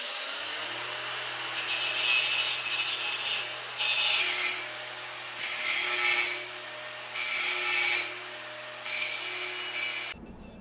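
Hand sawing or rasping of material around an electrical box so its screws fit, in an apartment being rewired: five steady back-and-forth strokes in bursts with short pauses, close and fairly loud, over a low steady hum.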